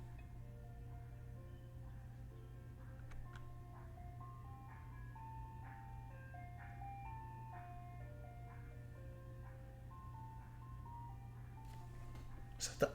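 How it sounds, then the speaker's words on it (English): An ice cream truck passes outside playing its tinkling jingle melody, faint and distant over a steady low hum indoors. "That was the ice cream truck"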